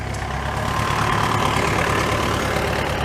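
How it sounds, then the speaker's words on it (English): A miniature steam engine runs at an outdoor tractor show, giving a steady, continuous mechanical drone with a low rumbling base and a faint hissing top, constant in level throughout with no voices. "Oh, we got some miniature steam engines here."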